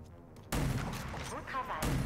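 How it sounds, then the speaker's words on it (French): Two heavy, booming blasts from a pump-action shotgun in Borderlands 3, fired close and loud about a second apart, with a roaring tail after each shot. "Voici le fusil à pompe."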